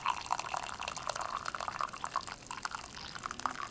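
Water pours and trickles over TieGuanYin tea leaves in a rinse, a steady close splashing stream with small drips throughout, no voices.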